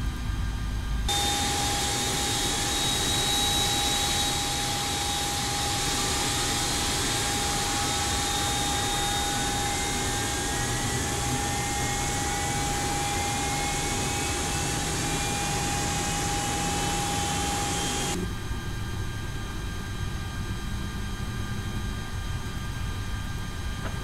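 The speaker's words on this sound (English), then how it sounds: "Starting engine 1." Engine 1 of an Airbus A330 starts up at Heathrow, heard from the cockpit: a loud, sustained roar with a whine that climbs steadily in pitch, then cuts off sharply near the end.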